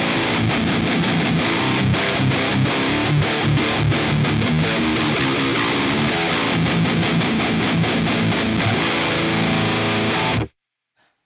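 Heavily distorted 7-string electric guitar played through a Peavey Invective amp with an impulse response, chugging dense riffs loud and continuous for about ten seconds, then cutting abruptly to silence.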